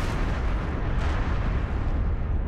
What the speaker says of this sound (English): a powerful explosion rocks the Deepwater Horizon drilling platform in the Gulf of Mexico